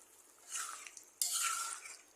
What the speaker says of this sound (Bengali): মশলাটা কষানো হয়ে গেছে। এই যে বুড়িটা দিয়ে দিলাম।